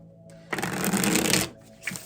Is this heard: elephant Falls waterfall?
no